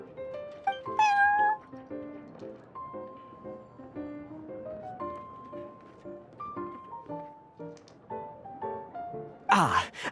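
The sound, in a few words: cat Prince meowing, from a video game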